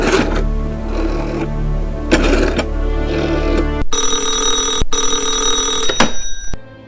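A telephone bell rings loud and close in short repeated bursts, then gives way to a steadier, brighter electronic ring that cuts off near the end, with no voices.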